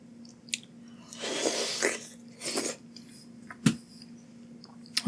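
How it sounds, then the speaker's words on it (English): Someone bites into and chews a crunchy snack up close, with several separate crisp crunches and wet chewing bursts spread across a few quiet seconds. "Pardon the snack attack."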